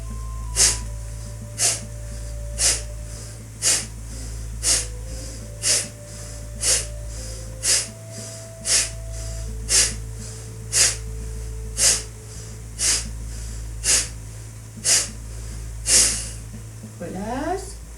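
Forceful rhythmic breaths during a kriya purification exercise, sharp nasal exhalations repeating roughly every second, loud and close, over a steady low hum and with faint tones in the background.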